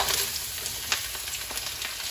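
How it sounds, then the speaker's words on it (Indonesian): Shallots fry in hot oil for sambal terasi, giving a continuous close sizzle with scattered crackles and a few stirring clicks. "Kita goreng bawang merahnya"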